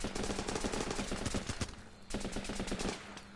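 Rapid automatic gunfire from the video game Running With Rifles comes in two quick rattling bursts split by a short pause. The shots are fairly quiet and distant.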